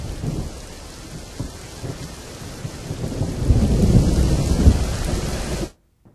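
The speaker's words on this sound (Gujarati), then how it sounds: "સાબરકાંઠાના હિંમતનગરના ગાંભોઈમાં વરસાદ" Heavy monsoon rain pours steadily on surfaces in Gambhoi, Himmatnagar, Sabarkantha, Gujarat, with deep rolling thunder swelling beneath it, loud and continuous before stopping abruptly.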